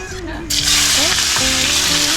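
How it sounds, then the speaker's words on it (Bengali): Cardamom, dried chillies and bay leaves hit hot oil with a sudden loud sizzle after a short quieter moment, then crackle on steadily and close by, with faint voices in the background. "এলাচ আর দুটো শুকনো লঙ্কা দুটো দেখো দিচ্ছি হচ্ছে তেজপাতা তেজপাতা দিয়ে দিল এবার একটু তোমাকে ভেজে নেবে"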